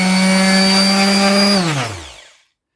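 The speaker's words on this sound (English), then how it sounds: "Let's have a look how long it takes to come on and how long it takes to come off." Morpilot detail palm corner mouse hand sander running at a steady high whine, then switched off so the motor pitch sinks and winds down to silence, loud and close.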